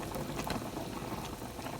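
Steady, dense bubbling of water at a rolling boil, a continuous gurgling hiss throughout.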